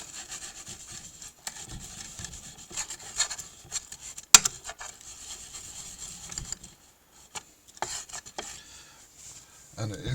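Fresh chickweed being ground into botanical paint with a glass muller-style molar, giving soft intermittent rubbing and rasping strokes with a sharp clink partway through, close and fairly quiet.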